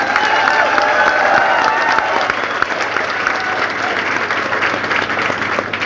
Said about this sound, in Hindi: और एक बार तालियां बजाकर मोहर लगा दीजिए बच्चे पर